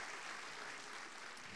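Audience at a French business conference plenary round-table session applauding, a steady dense wash of clapping from a large crowd in a hall, continuous and even throughout without talk.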